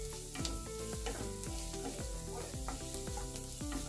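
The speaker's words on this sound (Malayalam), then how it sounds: "ഇതിൻ്റെ കൂടെ അങ്ങോട്ട് വഴറ്റിയാൽ മതി." Onions and fresh green peas sauté in a pan for pasta, giving a steady close sizzle. Regular stirring scrapes and clinks cut through it about every half second, with no talk.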